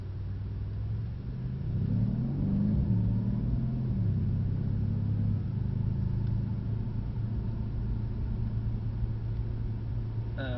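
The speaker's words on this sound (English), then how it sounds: "We're on ice, we're emergency stopping, we're swerving twice, and we're going to try and keep the car in control." A car brakes hard and swerves on ice, heard from inside as a steady, close engine rumble that rises briefly in pitch and then settles into a continuous drone.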